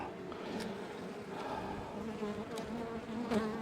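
Honey bees buzz steadily around an opened beehive, a dense close hum with a few individual bees droning louder as they pass near.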